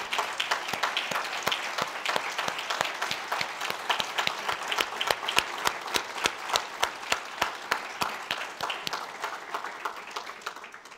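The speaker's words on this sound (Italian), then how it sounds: "un grande applauso" An audience at a district seminar applauds steadily for several seconds, many hands clapping in a dense, even patter that holds strong before tapering slightly.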